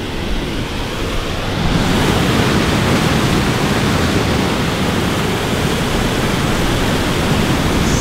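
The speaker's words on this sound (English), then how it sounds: "Secret little waterfall just chilling out." Steady rushing water from a small waterfall pours continuously, a dense close-up roar with no pauses or voices.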